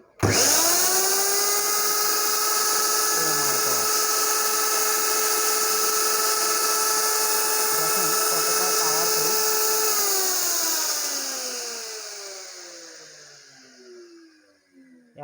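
A powerful electric mixer grinder for milling rice and spices runs at full speed, a loud steady motor whine that holds for about ten seconds and then winds down as it is switched off.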